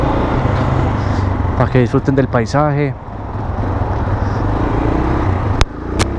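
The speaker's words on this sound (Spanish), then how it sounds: "Y el sonido de la moto." An AKT TTR 200 motorcycle engine drones steadily along with road rumble and wind, and someone speaks briefly over it.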